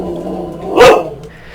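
A single loud dog bark rings out close by, a short burst over a steady low background hum.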